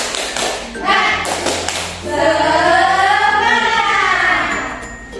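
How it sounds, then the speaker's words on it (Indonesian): Children doing the tepuk semangat spirit clapping routine in a classroom, with a few quick taps and claps followed by a loud group chant of young voices. "Agar lebih semangat, mari kita tepuk semangat terlebih dahulu"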